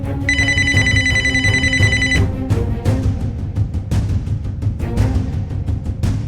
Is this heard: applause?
no